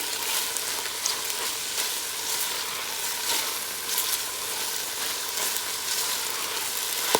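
Celery leaves stirred into a sizzling pot of lamb stew, giving a dense, even frying hiss with soft stirring scrapes, close and steady throughout, no voices.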